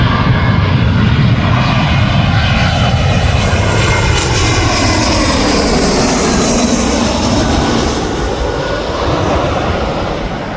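A British Airways jet on the Heathrow shuttle comes in to land at Manchester Airport, crabbing in a crosswind, its engines a loud, steady roar that swells and then eases slightly.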